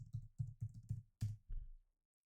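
Typing localhost on a computer keyboard, about eight crisp close keystrokes in a quick even run, the last one a heavier press, then silence.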